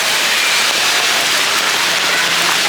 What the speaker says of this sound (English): Completely rained. Everything's flooded.